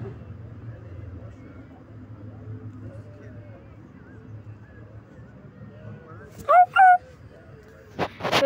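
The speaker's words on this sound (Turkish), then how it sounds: "Köpek geldi de yanıma." A dog barks twice in quick succession at moderate distance in Minecraft, on a beach, over a quiet, low background hum. A sharper sound follows a moment later.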